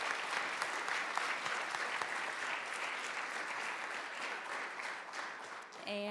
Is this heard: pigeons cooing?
no